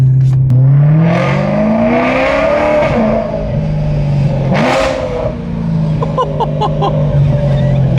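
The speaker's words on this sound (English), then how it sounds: "Like how old is this exhaust and it sounds that good?" A BMW E92 M3's engine and aged exhaust revving up and falling back in a few rising and dropping sweeps, loud and close, with a brief burst of talk over it.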